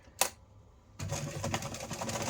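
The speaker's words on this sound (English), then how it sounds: "I'm going to put it in my machine here" Sewing machine stitching a box around a patch on a fabric envelope for a Christmas advent project; after a brief click and pause, a steady, close whirring run of rapid stitches begins.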